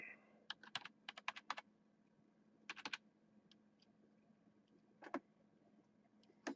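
Quick flurries of keystrokes on a computer keyboard come in short bursts separated by pauses, faint and close in a quiet room.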